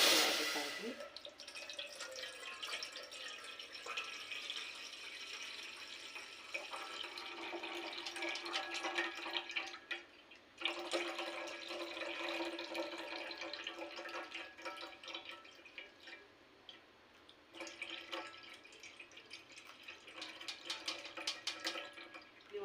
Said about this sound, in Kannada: ನಾನು ಹಾಲನ್ನು ಸೋಸ್ಕೊತಾ ಇದ್ದೀನಿ